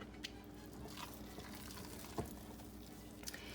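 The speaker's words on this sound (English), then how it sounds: "Your hand will get tired of mixing" Thick ham croquette dough stirred in a pot over low-to-medium heat, giving a quiet, steady scraping and squelching with a faint sizzle and a few sharp clicks of the spoon against the pan.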